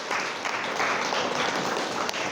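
Audience applause in a large hall, a loud continuous patter of many hands clapping that holds steady throughout.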